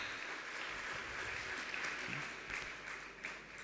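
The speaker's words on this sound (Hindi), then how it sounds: "मैं चाहता हूँ सभी जोरदार तालियों से स्वागत करें, उनका उत्साह बढ़ाएं।" Audience at a Jain religious gathering in Shikharji, Jharkhand applauding to welcome the organisers, a steady distant roar of many hands clapping at moderate level throughout.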